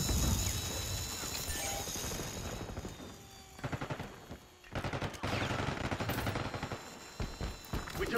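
Gunfire in the video game Call of Duty Black Ops 6: rapid automatic bursts come in several uneven volleys, with short pauses between them and scattered clattering impacts.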